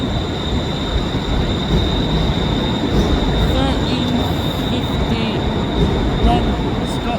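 A ScotRail train arriving at Glasgow Central station, with continuous rumbling wheels and a high steady whine or squeal over the noise, close and loud throughout.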